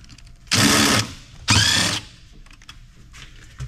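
A power tool whirs in two loud one-second bursts while removing screws from a CD-ROM SCSI tower, followed by quieter clicks and handling noise.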